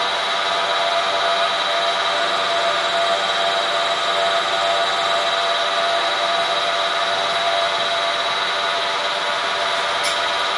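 A milling machine takes a cut on a workpiece held in an index head, a steady, continuous grinding hiss of metal cutting that holds at an even level without pause for about ten seconds, with no talking.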